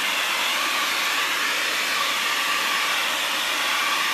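A hair dryer blowing on a sunflower painting in an art studio gives a loud, steady, unbroken whoosh close by, holding the same level throughout with no voices.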